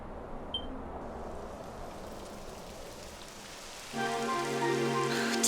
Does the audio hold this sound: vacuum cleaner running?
no